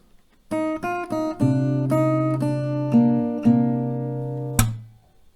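Plucked acoustic guitar notes ring out one after another in a slow melodic phrase, ending with a final strummed chord that fades.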